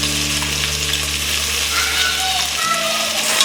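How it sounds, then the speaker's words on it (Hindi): Potatoes with salt frying in oil on a medium flame for aloo pulao give a close, steady sizzle with stirring, over a low hum that cuts out near the end. "दो मिनट हम इसे फ्राई करेंगे"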